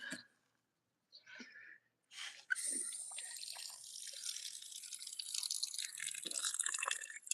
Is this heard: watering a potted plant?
yes